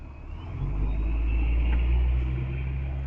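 Large bus passing close by, a heavy low engine rumble that swells over a few seconds and holds loud and near, with no voices.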